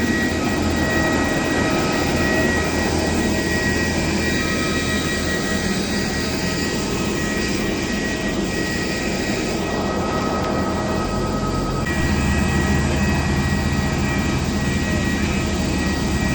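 A large airplane at Puerto Princesa airport in Palawan gives off a loud, steady jet engine roar that persists throughout.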